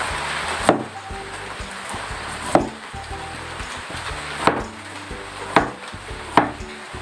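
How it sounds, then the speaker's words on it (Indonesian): A knife chops peeled potatoes on a board in a kitchen, five or six sharp, evenly spaced knocks over a soft background hum. "Setelah kita kupas, kentang kita potong."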